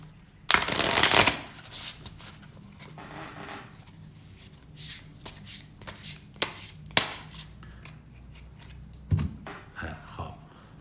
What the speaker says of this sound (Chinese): 这样吧，由你来洗牌，你自己洗，